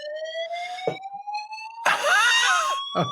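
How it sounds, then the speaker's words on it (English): A loud electronic fire alarm tone sounds steadily throughout, with a couple of brief sharp knocks and a burst of rattling noise in the middle. "we've got a fire alarm"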